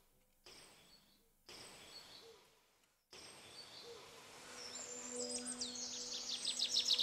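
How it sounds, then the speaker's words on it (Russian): Quiet forest ambience in an Unreal Engine 5 game scene, with scattered bird chirps and twittering, growing denser and louder toward the end, with faint background hiss. "у нас есть звук леса, это пение птиц, какие-то щебетания"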